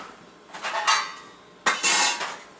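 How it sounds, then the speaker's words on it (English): A metal frying pan is moved across a kitchen surface while meatloaf is prepared, making two bursts of clattering, scraping cookware clanks, close and fairly loud, with no voices. "I will bring my pan over"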